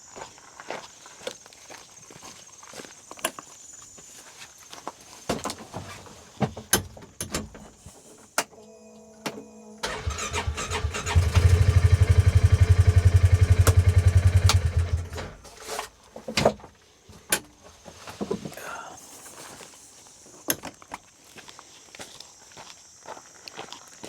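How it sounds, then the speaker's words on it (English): An engine cranks for several seconds and catches, loud and close, with a steady low rumble in the middle of the clip while the battery is low. Scattered clicks and handling knocks come before and after it. "I'm gonna start this up, just so you can hear how it cranks."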